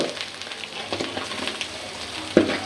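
Chicken and egg for chow mein sizzle steadily in hot oil, a close, continuous crackle with a sharper spatter near the end and no voices.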